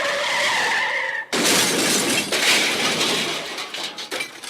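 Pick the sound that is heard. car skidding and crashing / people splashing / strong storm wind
car skidding and crashing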